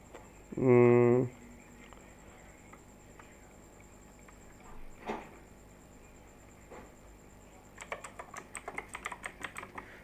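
Code is typed on a computer keyboard in a rapid, close run of key clicks near the end. Before it come a brief spoken voice and a couple of isolated clicks over a quiet room hum.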